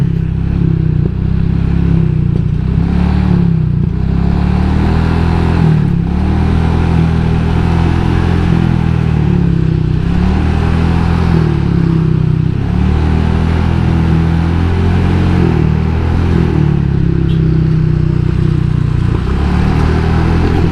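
A motorcycle fitted with a replacement engine, with a mismatched magneto and a 125 head, runs and revs steadily and loud for the whole stretch, its low engine drone continuous with some mechanical clatter and no talk.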